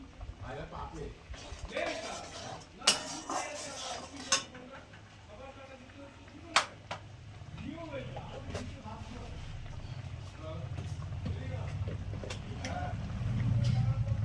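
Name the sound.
stirring spice masala in a cooking pan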